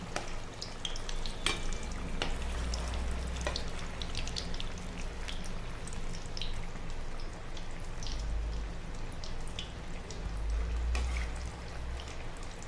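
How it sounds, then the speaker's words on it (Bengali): Jackfruit koftas fry in hot oil over a low flame, giving a continuous close sizzle dotted with small crackles and pops, with no one talking. "আস্তে আস্তে আমি লো ফ্লেমে ভাজা করব।"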